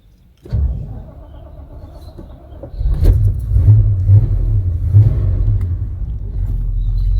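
A Holden Sandman's 4.2 litre V8 starts from quiet, settles into a low rumbling idle, then gets a firmer blip of the throttle and holds a deep, loud burble close by.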